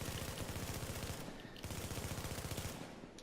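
Rifle fire in the video game The Division, aimed at a fellow player's character: rapid, evenly spaced shots in two bursts separated by a brief pause, loud and unaccompanied by speech.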